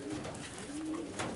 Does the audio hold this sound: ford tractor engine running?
no